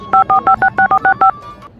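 A phone keypad dials a number with a quick, even run of about nine sharp two-note beeps, loud and close, followed by a short fainter tone.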